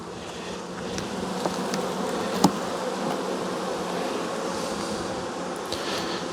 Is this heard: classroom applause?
no